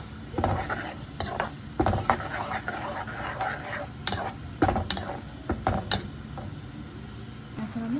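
Dried shrimp tossed into spices frying in a pan, with steady sizzling under repeated scraping and clinking stirs at an even, close rhythm.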